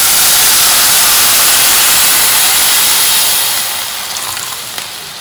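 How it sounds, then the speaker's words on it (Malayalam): Milk is poured into a hot pan of roasted vermicelli, bursting into a loud, dense hissing sizzle that holds steady, then softens after a few seconds into a quieter bubbling simmer. "ഇനി നമുക്ക് ഇതിലേക്ക് പാൽ ഒഴിച്ചു കൊടുക്കാം കേട്ടോ."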